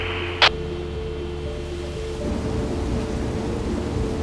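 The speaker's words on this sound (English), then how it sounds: "Okay, Steve, can we get some rain in the northeast quadrant, please?" Artificial rain begins falling inside a biodome climate model, a soft hiss of spray that swells after a brief sharp click, steady and moderately loud over a low mechanical hum.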